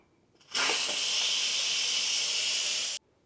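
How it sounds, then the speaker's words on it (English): Instant Pot pressure cooker cooking rice gives a quick steam release: one loud, steady hiss that starts abruptly, holds for about two and a half seconds, then cuts off sharply in a quiet kitchen. "it just went off, so let's let this steam out"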